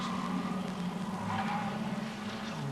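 Holden Commodore production saloon race cars lapping Amaroo Park in 1987, their engines droning steadily with a rising and falling pitch, loud and continuous throughout.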